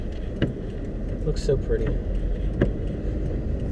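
A car drives through a small town, with a low, steady cabin rumble and a few small clicks and rattles beneath a short spoken remark.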